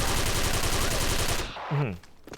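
Rapid automatic XM8 rifle fire in the Special Force online shooter, a dense, loud, rattling burst that cuts off abruptly, followed by a brief voice and scattered clicks.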